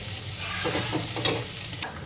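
Ground masala with turmeric, red chilli powder and mutton masala sizzles steadily in a pan for an egg curry, while a spoon scrapes and stirs it in soft, irregular strokes, close and moderately loud with no talking.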